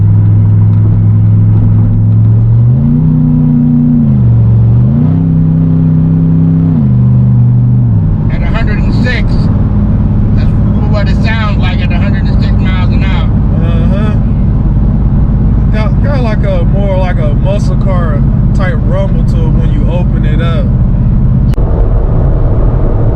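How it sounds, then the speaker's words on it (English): A 2014 Chevrolet Corvette Stingray C7 with its exhaust valve open revs loudly from inside the cabin, a deep booming rise and fall in the first eight seconds, then settles into a steady low drone while people talk. "Since you opened that valve, sounds like a totally different car versus the stock exhaust setup."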